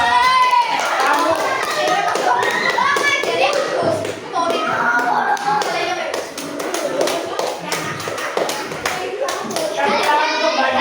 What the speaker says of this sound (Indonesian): Tepuk tangan untuk Mbak Naysila.